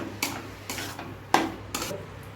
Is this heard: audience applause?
no